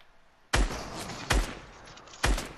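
Video game gunfire in a desert war shooter: three loud, sharp gunshot bursts about a second apart, each with a booming low thump and a short ringing decay, over quiet background.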